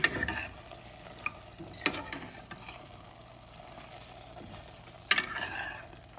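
Ground spice paste frying in a pan for a coconut-milk chicken curry, a soft continuous sizzle under sharp, intermittent scrapes and taps of a utensil stirring, close and fairly quiet with no talk.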